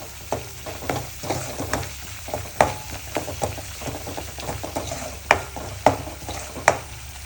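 Masala paste sautéing in a pan, with steady frying sizzle broken by repeated scrapes and stirring knocks at an irregular rhythm, close and moderately loud, with no voices.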